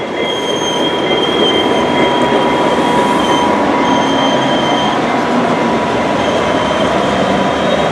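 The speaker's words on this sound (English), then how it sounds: "There goes the train." A passenger train on New Mexico's Rail Runner line rumbles past loudly and steadily, with rolling wheel noise and thin metallic squeals over the roar.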